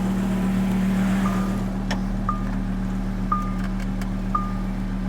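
Crashed Lamborghini Huracan engine idling after start, a steady low droning hum with faint beeping chimes repeating over it.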